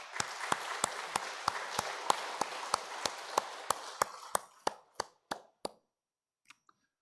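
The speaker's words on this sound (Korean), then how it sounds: "잠깐 일어나시면 우리 박수로 환영하도록 하겠습니다" A church congregation at a Korean Sunday worship service claps together in a steady, even rhythm to welcome a visitor. The sharp unison claps slow and thin out before stopping, with a couple of stray claps after.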